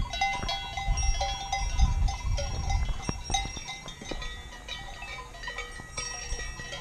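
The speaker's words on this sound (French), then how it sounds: "Entre les brebis, les chevaux et les vaches." Sheep, horses and cows graze in a mountain pasture, with clanking bells and faint animal sounds scattered across a steady outdoor background, and a low rumble that is louder early on.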